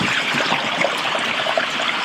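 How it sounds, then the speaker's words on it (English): A snowmelt stream rushes and trickles steadily, close by on a mountain trail in Washington State, a continuous watery hiss with no voices. "Such pure, nice water is coming here."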